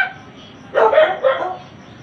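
A neighbour's dog barks twice in quick succession nearby, short harsh yelps against a quiet background.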